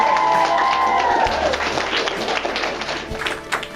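A crowd at a school education awards ceremony breaks into applause and cheering, loud clapping that starts over a fading tone and gradually thins out.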